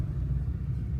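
Road traffic in Balibago: a low, continuous rumble of passing cars heard from inside a vehicle, steady and muffled.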